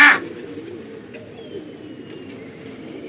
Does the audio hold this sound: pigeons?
yes